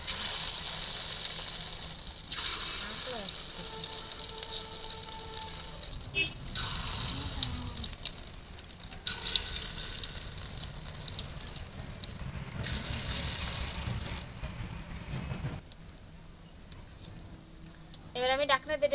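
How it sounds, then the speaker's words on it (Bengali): Small crab fritters deep-fry one by one in hot oil in a wok, producing a continuous bubbling sizzle that swells and fades in bursts, with occasional quiet voices in the background. "আমার তেল গরম হয়ে গেছে। আমি এবারে একে একে বড়াগুলো ভেজে নেব।"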